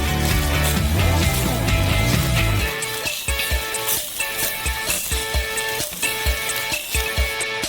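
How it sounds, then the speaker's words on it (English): Cheese mixed with soda and salt is crushed and stirred in a pan over low heat. A loud scraping rumble gives way to rhythmic, repeated stirring strokes over a soft sizzle, heard close with no speech. "Over some low heat, we constantly crush and mix the cheese."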